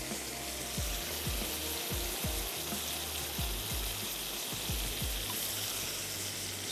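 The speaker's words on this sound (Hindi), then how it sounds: "तो अब हम इसको मसाले को पहले भून लेते हैं, टमाटर अच्छे से मैश हो जाएं।" Tomato masala frying in oil in a pan, a steady sizzle with periodic soft knocks of a spoon stirring and mashing, no voices.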